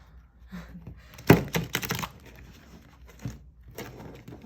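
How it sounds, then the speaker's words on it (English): Tarot cards are shuffled by hand in a few crisp riffling bursts, the loudest a sharp flurry near the middle, followed by lighter clicks and taps. "Let's give the cards a good shuffle."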